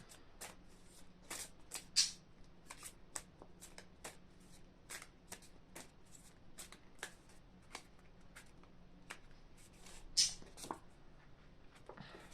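Tarot cards being shuffled over and over, a steady run of crisp riffling snaps with a couple of louder slaps, close up and with no talking.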